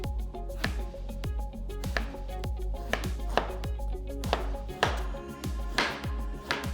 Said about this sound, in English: Next thing we're going to chop up is the aubergine.